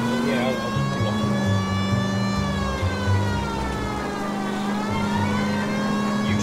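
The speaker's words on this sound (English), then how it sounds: "Actually got siren going" A police car siren from the video game L.A. Noire wails steadily over a running car engine with revving bursts, loud and continuous throughout.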